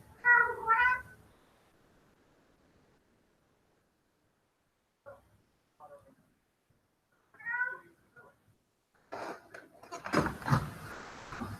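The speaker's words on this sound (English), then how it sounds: "there goes the cat. Cat is making a bunch of noise too." A cat meows several times indoors, two clear calls near the start and another midway, separated by quiet gaps, followed by rustling and handling noises at the end.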